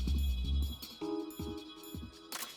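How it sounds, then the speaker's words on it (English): A phone rings during a video game, faint repeating electronic tones in short pulses that sit among other quiet game sounds, with no one talking. "Oh, that's the phone."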